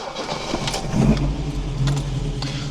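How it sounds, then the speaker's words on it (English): An Opel Manta A fitted with twin Weber DCOE 40 carburetors starts up with a brief crank and catches into a steady, moderately loud low idle rumble, close by, with no voices. "Let's fire this thing up."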